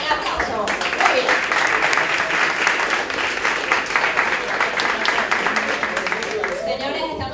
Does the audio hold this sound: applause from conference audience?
yes